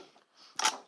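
A faint, quiet mechanical click, a short snap of a 5-pin relay's coil switching in a hushed room, followed by another small tick at the very end.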